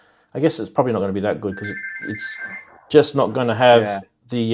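A telephone rings with a steady electronic tone under ongoing conversation, sounding briefly between stretches of speech.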